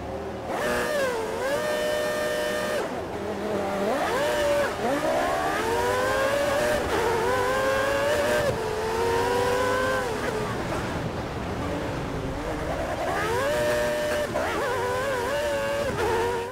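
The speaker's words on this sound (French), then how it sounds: "Et ça aura été difficile de s'extraire de cette grille de départ, les voitures qui patinent beaucoup comparées au modèle F1 2014." Formula 1 cars pulling away from the starting grid at Spa in a racing video game, several engines whining and rising in pitch together as they accelerate, a loud, continuous layered roar with repeated upward sweeps.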